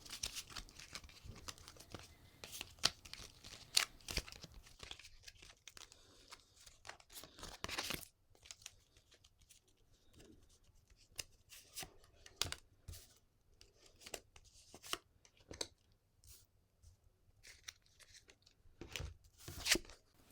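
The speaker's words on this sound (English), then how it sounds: "I will shuffle the cards to give you your ethics in convenient fortune cookie form." Soft, close papery riffling and flicking in irregular bursts, like playing cards being shuffled, with quiet gaps between.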